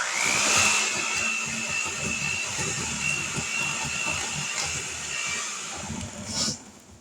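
An electric hand mixer whirs steadily through applesauce oatmeal raisin cookie dough, a continuous motor drone with a high whine, running loud and close before cutting off near the end.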